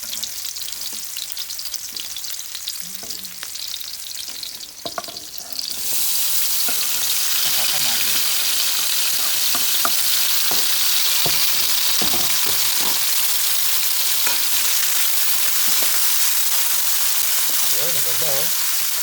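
Garlic and onion hit a hot pan, and a quiet background jumps into a loud, dense, continuous sizzle that holds steady, with a voice talking over the frying.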